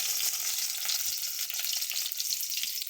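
Onion frying with nigella seeds in a little oil in a hot pan, a dense steady sizzle with light crackling, close and fairly quiet, no voices.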